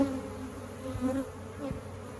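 Honey bees buzzing at a hive, a close, steady, continuous drone with small shifts in pitch as individual bees move near.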